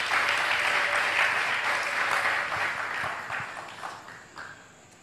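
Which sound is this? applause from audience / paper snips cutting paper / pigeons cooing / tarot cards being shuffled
applause from audience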